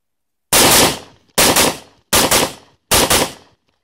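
Four loud rifle shots fired through a JEC Quick-Brake muzzle brake, each a sharp blast with a short ringing decay, spaced roughly evenly about three-quarters of a second apart with no talking.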